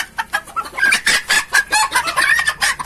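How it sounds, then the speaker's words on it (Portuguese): Barred mini Cochin bantam chickens, a hen and a young rooster, cluck and call in a close burst of loud, rapid squawks and clucks with short pauses, no talking. "Olha o galinho, ó. Tudo com ciúme da fêmea."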